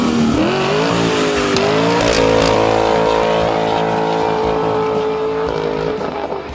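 A 1969 Camaro SS V8 with a Flowmaster 50 Series Delta Flow custom dual exhaust and H-pipe revs loudly and up close, the pitch climbing in steps, then holding a steady high drone before easing off near the end.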